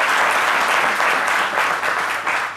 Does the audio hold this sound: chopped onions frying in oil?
no